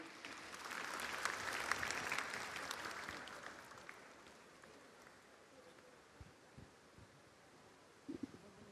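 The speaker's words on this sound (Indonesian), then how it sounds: "Kita beri tepuk tangan yang meriah." Applause at an evening Islamic gathering with shalawat singing, a broad wash of clapping that is strongest early and fades over several seconds into quieter room noise with a few scattered thumps.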